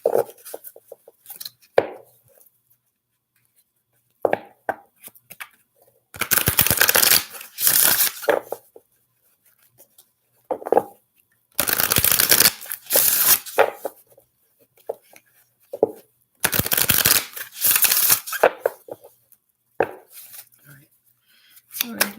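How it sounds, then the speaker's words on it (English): Playing cards being shuffled in several bursts of riffling and bridging, with quiet pauses and brief low talk between the shuffles. "Oh, that was a nasty shuffle."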